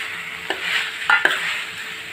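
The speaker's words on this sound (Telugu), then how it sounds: "ఎగ్స్ వేసేస్తున్నాను." Soft continuous sizzling of eggs frying in a pan with a few sharp scraping taps of stirring, close and fairly quiet, no speech.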